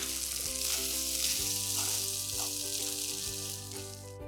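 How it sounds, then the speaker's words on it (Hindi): Cumin and fennel seeds crackle and sizzle in hot oil with green chillies and asafoetida, a steady close frying hiss with soft pops, no voices. "ज़ीरा सौंफ को एक बार चटकने देंगे।"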